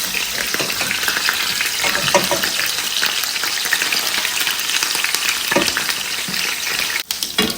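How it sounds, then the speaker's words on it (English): Loud, steady sizzling of meat frying in hot oil in a pan, constant crackle and spatter throughout, close up, with a faint stir or clink near the end. "Our meat is done with the frying"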